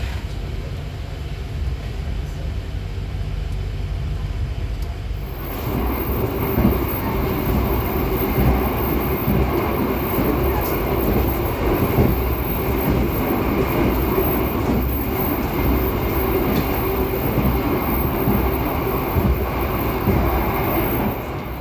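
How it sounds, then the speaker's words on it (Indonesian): The Sembrani passenger train running after departing Semarang Tawang station, heard as a continuous loud rumble and rushing roar that swells abruptly after a few seconds and holds steady, with faint rhythmic clatter of wheels on rail. "kereta api Sembrani telah diberangkatkan kembali dari stasiun Semarang Tawang"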